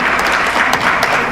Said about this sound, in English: Mr. Joshua Fuga, let's give him a round of applause as well as he comes to join me up here.